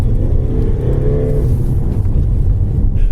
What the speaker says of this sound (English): I'm driving on the very battered concrete surface with lots of cracks in it and lots of loose gravel